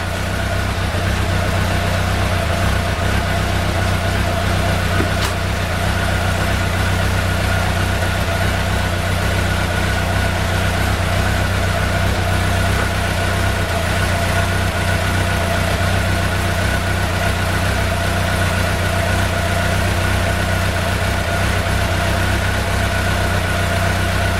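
A Suzuki Bandit 1200 motorcycle engine idles steadily after a service and valve check, a close, continuous low mechanical rumble holding an even pitch with no voices.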